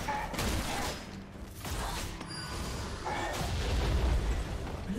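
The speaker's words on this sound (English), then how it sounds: "Blue team's inhibitor has been destroyed." Inhibitor structure destroyed in a League of Legends match, heard as a dense rumbling crash with booming, mechanical crumbling layered over ongoing game effects, steady and fairly loud throughout.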